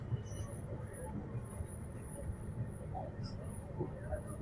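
A passenger train on the Kerala to Salem route slows down, heard from inside as a steady, continuous low rumble and rolling hum with faint high whine, no distinct beats, moderately loud throughout.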